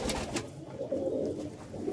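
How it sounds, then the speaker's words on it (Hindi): Pigeons in a crowded breeding loft full of nests give soft, low cooing calls that repeat in short bursts close by, with no talking. "ये एक नंबर कबूतर है।"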